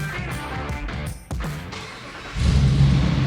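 A 5.7-liter Hemi Jeep Gladiator engine runs loud and close while driving, its steady drone dipping briefly before swelling into a deeper, stronger rev near the end.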